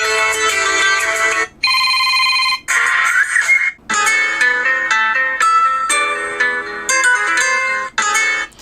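A song plays loudly through a phone's speaker, bright and tinny with melody phrases separated by brief gaps, heard alone without talking.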